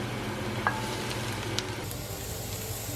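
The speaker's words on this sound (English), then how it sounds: "In a large pot, add oil and saute 1 1/4 cups of chopped yellow onion over medium-high heat" Chopped yellow onion sizzles steadily in oil in a large pot over medium-high heat, with a soft continuous frying hiss and a couple of faint utensil clicks and stirring sounds.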